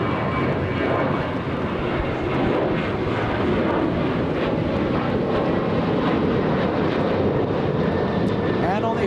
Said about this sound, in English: Look at that. Those are the early morning Qantas A380 flights.